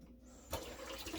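Tap water gushes steadily to wet a big tablespoon while pressing a vegan no-bake carrot cake mixture, starting abruptly and running continuously at close range with no talking.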